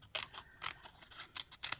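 Scissors snip through paper for a Halloween cat craft box, giving several crisp, quiet cuts in an uneven rhythm close to the listener.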